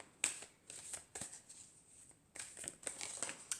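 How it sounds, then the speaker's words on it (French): Tarot cards are shuffled and drawn by hand in a quiet room, a run of soft papery riffles and slides with brief pauses between bursts, close and fairly faint. "je vais tirer 4 cartes"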